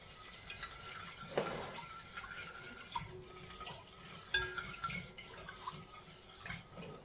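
Brioche dough is mixed by hand in a bowl, making soft wet squelching and stirring sounds with a few light knocks against the bowl, close and quiet, irregular in rhythm, with no one talking.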